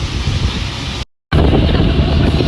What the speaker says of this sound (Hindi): बारिश चालू हो गई है।